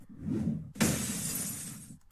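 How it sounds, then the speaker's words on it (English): Glass shatters in a bright, sharp crash after a low muffled thud, the breaking fragments spreading and fading over about a second before a brief final clink, close and loud. "then you have this glass breaking sound effect, which I really like"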